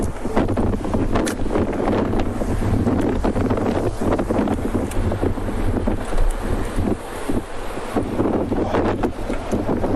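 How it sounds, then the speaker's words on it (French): Strong gusting wind from Tropical Storm Ernesto on the Guadeloupe seashore, loud and continuous, buffeting the microphone with heavy low rumble and rushing noise throughout, with surf mixed in. "On vient de se prendre une rafale"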